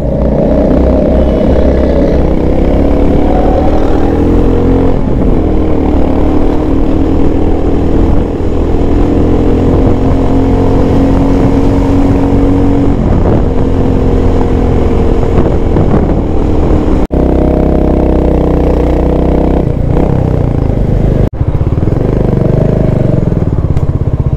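A Royal Enfield Goan Classic 350 motorcycle engine drones loud and steady at highway cruising speed, with wind rush and road noise, the pitch shifting slightly as it accelerates.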